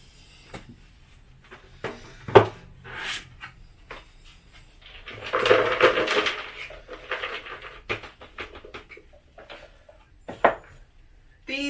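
Cleaned-out 5-litre plastic plant pots handled in a greenhouse during an autumn tidy, giving scattered hollow knocks, scrapes and rustles, with a busier stretch of clattering in the middle.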